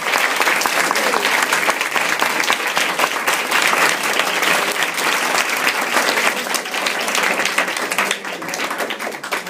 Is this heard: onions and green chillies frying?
no